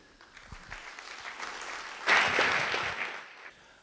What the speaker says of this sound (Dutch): Graag applaus voor Jan Wolsheimer.